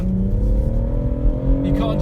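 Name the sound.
BMW M140i Shadow Edition accelerating around a corner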